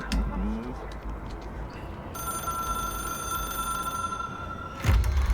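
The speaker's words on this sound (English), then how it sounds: "It is a phone." A telephone ringing in the video game Control, a steady electronic bell tone sustained for a few seconds, clear and fairly loud, cut off by a sudden low thump at the end.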